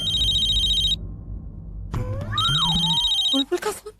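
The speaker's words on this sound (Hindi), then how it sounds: "बुलबुल का फोन" An electronic telephone ring in a home during a Hindi TV drama, a steady beeping tone that stops, returns after a pause and gives way to a voice at the end.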